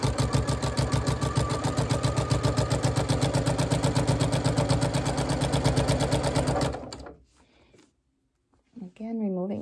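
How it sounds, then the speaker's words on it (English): A sewing machine with a walking foot stitches through thick layers of quilt binding in a fast, even mechanical rhythm for several seconds, then stops, and a person starts talking. "It just helps to feed the material, all these layers through nicely."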